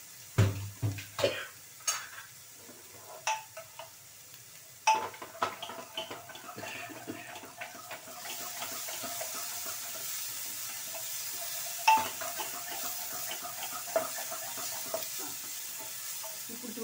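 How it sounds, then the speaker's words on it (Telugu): Food for chaat fries in a pan. It opens with sharp clinks of stirring against the pan, then settles into a steady, close sizzle with occasional taps. "ఇది వేగుతుంది."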